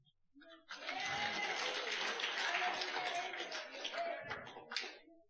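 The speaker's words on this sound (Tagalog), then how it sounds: "Palakpak." Steady, dense applause from an audience at a couples' church fellowship rises within a second, holds for several seconds and then fades, with a few louder claps near the end.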